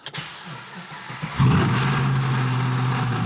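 A Chevrolet Camaro SS V8 barks to life with a sharp rise, then settles into a steady, close, droning rumble as the car begins to move off.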